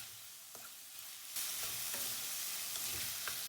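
Tomatoes being sautéed in a pan with coriander and mint leaves for vegetable rice, a steady sizzle that grows louder midway, with light stirring scrapes and occasional clicks, close and without talk.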